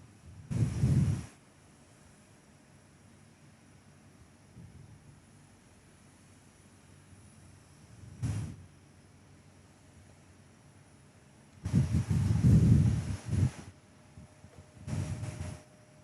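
A Jetstar Airbus A321 on its takeoff roll on runway 06 at Perth Airport sounds as distant bursts of engine roar that rise and fall against a quiet background, with no voices.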